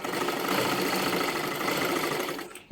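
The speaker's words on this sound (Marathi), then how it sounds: "डबल शिलाई मारून घ्यायची आहे" A sewing machine runs a continuous double stitch along a joined shoulder seam, whirring loud and close without pause for nearly three seconds before stopping abruptly, with no voices.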